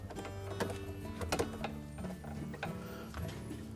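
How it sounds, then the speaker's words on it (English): Clamp on a GE washing machine door boot seal being tightened with a hand tool, giving a close run of small mechanical ratcheting clicks at an uneven pace, with no talking. "next we'll retighten that clamp"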